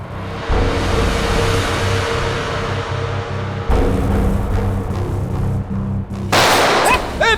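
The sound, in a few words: gunfire in a shootout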